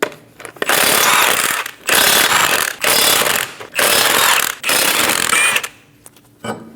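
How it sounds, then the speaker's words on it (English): Power tool, such as an impact wrench with a 21mm socket, runs in five loud, sustained bursts with brief gaps as the lug nuts come off a 2008-2015 Scion xB front wheel, close and harsh. "Using a 21mm socket, remove the 5 lug nuts"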